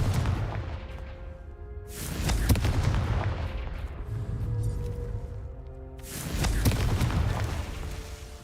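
Fiery spell explosions in the Hogwarts Legacy video game, two loud booming blasts a few seconds apart with rumbling decay over a continuous noisy background.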